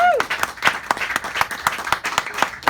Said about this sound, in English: round of applause before we get started